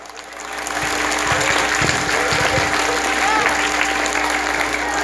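Loud, sustained applause from a crowd of students and staff at a school Flag Day ceremony fills the scene, rising quickly and holding steady throughout.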